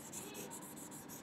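Marker or chalk scraping across a board in a physics class, a steady rubbing stroke with repeated short strokes, close and continuous, with no talking.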